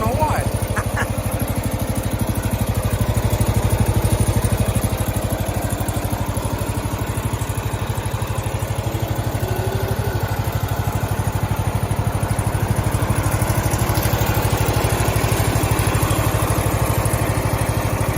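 A 1969 Cub Cadet 105 lawn tractor engine runs after being reassembled, with a steady, close, moderately loud chugging idle that continues throughout with a fine mechanical clatter.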